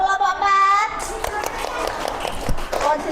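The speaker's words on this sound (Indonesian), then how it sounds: "Tepuk tangan untuk kelompok 4." A classroom of students claps for a group after a lesson, a burst of scattered hand claps and children's voices following a sung or chanted phrase, moderately loud and close.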